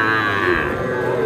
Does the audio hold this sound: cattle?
yes